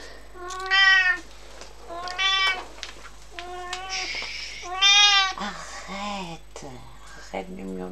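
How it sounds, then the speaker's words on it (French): A cat meows insistently indoors, giving several loud, drawn-out cries in a row while someone talks over and between them. "Arrête de miauler comme ça,"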